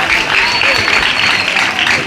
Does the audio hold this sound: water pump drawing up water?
no